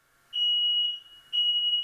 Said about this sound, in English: This is what happened when a smoke alarm went off in my house.